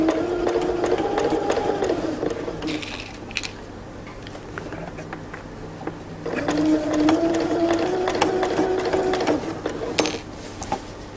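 A sewing machine runs stitching the side seams of drawstring pants in two sustained whirring bursts, separated by a quieter lull, loud and close throughout.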